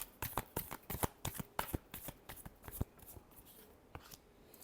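Tarot cards being shuffled by hand, a quick run of crisp riffling snaps and flutters that thin out into softer rustling toward the end, close and clear with no talk.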